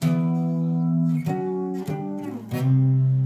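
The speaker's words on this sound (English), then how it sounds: "If you don't have overdrive, your guitar might sound like this." A clean electric guitar plays a few sustained chords, changing three times with brief plucked attacks, bright and undistorted, no voices.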